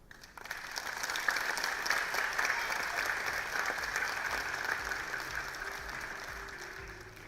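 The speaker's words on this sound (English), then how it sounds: "Can we give her another louder round of applause?" An audience applauds at a school annual day celebration, a dense, steady clapping that swells quickly and carries on for several seconds in a large hall.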